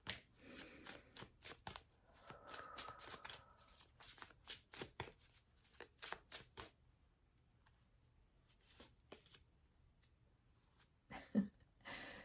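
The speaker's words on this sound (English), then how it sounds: "I'm just going to shuffle the deck for Oracle messages" A deck of oracle cards is shuffled by hand in quiet bursts of crisp riffling and tapping, with short pauses between bursts and a soft thump near the end.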